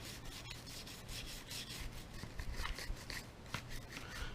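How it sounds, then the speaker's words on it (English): Steady cloth rubbing and wiping against a Smith & Wesson 9mm pistol, close and continuous with short scrubbing strokes, no talking. "I'll come in here and start wiping everything down."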